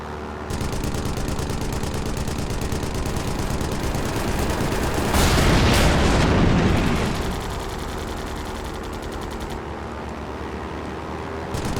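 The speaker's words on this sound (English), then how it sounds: "Shoot down the bombers." Heavy gunfire and explosions from bomber aircraft being shot down in the PS3 flight combat game Air Conflicts Secret Wars, with continuous rattling fire swelling into a loud burst midway before settling back.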